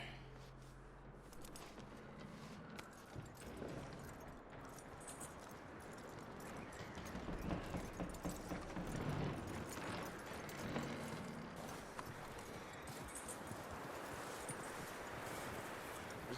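Horse hooves clip-clop at a walk in the Red Dead Redemption 2 video game, a faint, steady rhythm under a busy outdoor game soundscape with low rumbles and other ambient noise.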